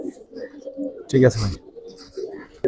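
Giribaz and coloring pigeons, including an old black-neck line, coo low and soft in a loft, repeated throaty murmurs running underneath a man's nearby speech.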